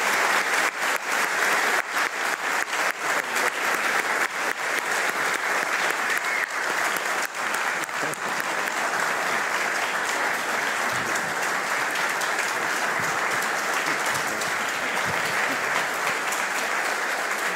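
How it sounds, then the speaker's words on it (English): An audience claps steadily for the panelists at an astronaut and human spaceflight panel event, dense sustained applause from a large crowd that stays even and fairly loud from start to finish. "let's give our distinguished panelists one more round of applause"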